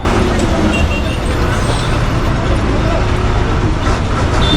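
A loud, heavy vehicle rumbles past close by on the road near Sangameshwar, Ratnagiri, its engine and road noise constant and dominant throughout.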